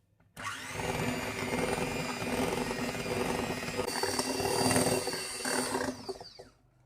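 Electric mixer whirring steadily as it creams butter for a flour frosting, a continuous close whine for several seconds that starts and stops abruptly.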